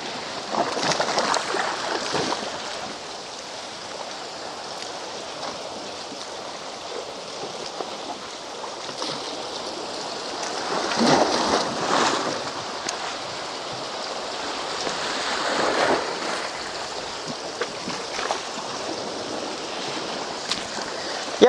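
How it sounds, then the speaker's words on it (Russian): Sea waves surging against rocks in a small bay at Anapa in winter, a continuous loud wash of water with swelling surges every few seconds, heard alone. "если волна ударит, меня может тут обрызгать"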